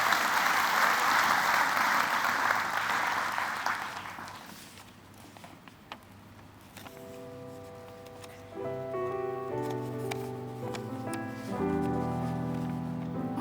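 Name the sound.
audience applause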